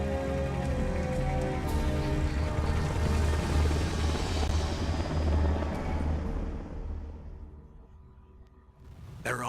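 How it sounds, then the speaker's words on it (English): A Hind helicopter in the Metal Gear Solid video game roars with a loud, steady rotor drone and rain-like wash that fades toward the end, with no talk. "There goes Revolver Ocelot in the chopper."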